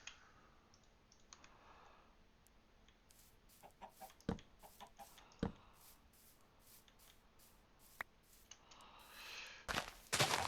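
Clucking chicken sounds from Minecraft, scattered over a quiet background with sharp clicks and taps, and a louder burst near the end.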